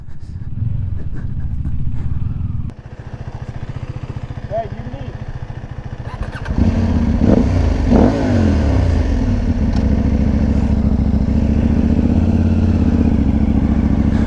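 A 2020 KTM 890 motorcycle engine rumbles low and steady while riding, stepping up louder partway through as it pulls harder, mixed with wind noise and muffled talk.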